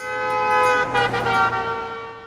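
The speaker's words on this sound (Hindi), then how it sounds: "हॉर्न बजा के पू पू" A car horn sounds in one long, loud, steady blare lasting about two seconds, close by and alone.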